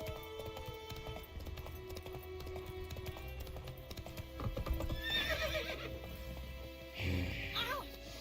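A horse in The Witcher 3 gallops with steady, rapid hoofbeats under game music, then lets out two clear whinnies near the end.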